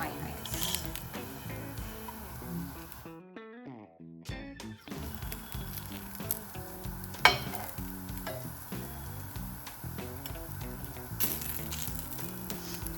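Rava dosa batter crackles and sizzles on a hot pan, a steady frying hiss broken by a short quiet gap and the scrape of a spatula turning it, with a voice talking over the cooking.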